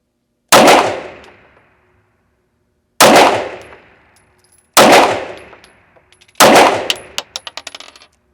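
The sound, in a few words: Springfield Prodigy 1911 9mm pistol being fired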